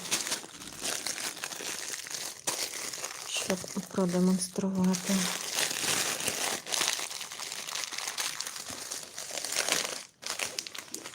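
Plastic packets of grain crinkle and rustle close by as they're handled, with a person talking over much of it.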